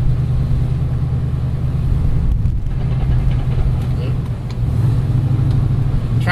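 A Saleen car engine drones low and steady while cruising in third or fourth gear through Casey Key, Florida, a constant close rumble inside the car with a slight dip near the end.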